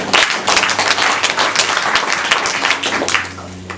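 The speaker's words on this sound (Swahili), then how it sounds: "Makofi." A church congregation bursts into a dense round of clapping, loud and evenly sustained for several seconds before thinning out at the end.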